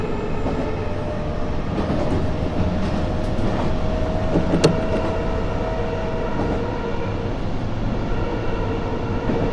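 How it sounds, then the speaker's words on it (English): A Tokaido Line train running in Japan, heard from the driver's cab as a steady, loud mechanical rumble and rail noise that continues evenly throughout, with one brief sharp click midway and no talking. "Fast train, but not going that fast."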